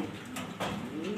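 A pigeon gives a short, soft coo close by, a brief rolling call amid quiet background noise.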